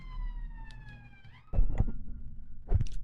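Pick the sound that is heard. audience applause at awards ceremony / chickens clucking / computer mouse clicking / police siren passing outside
police siren passing outside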